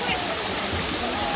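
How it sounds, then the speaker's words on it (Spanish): A large waterfall at the Amapulapa water park in San Vicente, El Salvador, gives off a steady, close rushing roar of falling water with no break. "Y ahí está la mega cascada."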